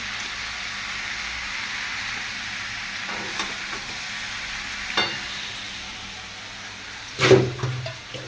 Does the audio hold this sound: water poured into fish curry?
yes